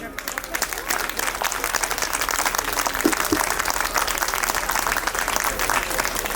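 Audience applause and cheering at a live stage show, dense and continuous clapping from a large crowd that stays loud and steady throughout.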